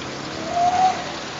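Vegetable fritters made with sayur engkol and rice flour batter frying in hot oil, a steady broadband hiss and crackle that stays constant throughout with no talk.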